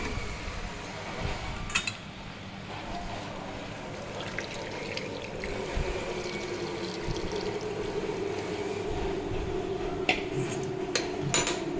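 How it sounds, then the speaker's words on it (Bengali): Hot water is poured into a pan of chicken curry with potatoes, a soft steady splashing pour with occasional clinks of metal utensils and pot, close by and without talk. "এরপর আমি পরিমাণ মতো গরম জল দিয়ে দেবো।"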